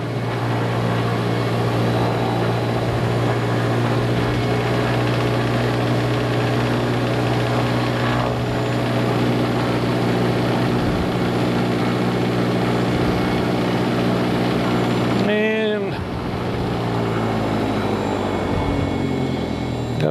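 Mooney M20J light aircraft engine running after a hot start, a loud steady propeller drone with uneven sputtering, and a brief sharp change in the sound near the end before it settles back to idle.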